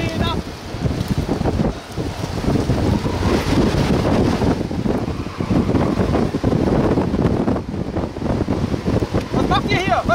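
Strong wind buffets the microphone near a tornado in Texas during a severe storm, a loud continuous roar and rumble throughout, with excited voices talking over it.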